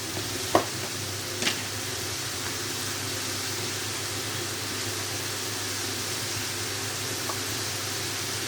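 Green chillies fry in a pan with a continuous close sizzle and hiss, with a couple of brief utensil knocks early on and no voices.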